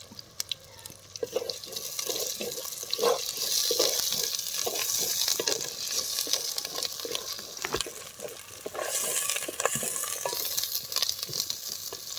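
Ginger, garlic and a fried ground spice paste cooking in a pan for handi chicken, giving a steady close-up sizzle with stirring scrapes and clicks throughout, with no talking.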